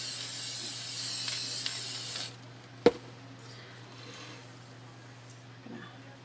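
A spray can spraying paint on a matchbox dresser: a close, steady hiss for about two seconds, then it cuts off, followed by a single sharp knock and quiet room noise.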